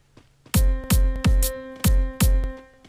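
A punchy electronic drum beat with five heavy kicks over a steady sustained tone, looping in an even rhythm, loud and close.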